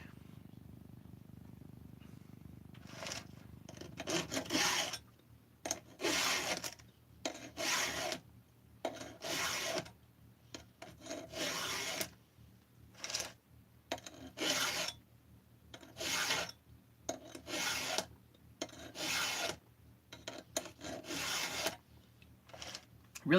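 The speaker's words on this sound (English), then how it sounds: "Really wasn't planning on sharpening a chain while talking to you guys tonight." A hand file rasps against a chainsaw chain in a regular rhythm of short, bright strokes with brief pauses between them, close and fairly quiet, with a soft hum underneath.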